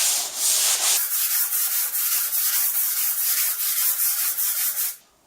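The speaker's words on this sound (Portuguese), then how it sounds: "eu não vou apertar muito não a lixa aqui, e eu vou concentrar só nessa parte para vocês poderem ver" Sandpaper rubbed by hand over a hard PU primer finish, a steady, loud rasping scrape in quick back-and-forth strokes that stops abruptly at the end, with no talking.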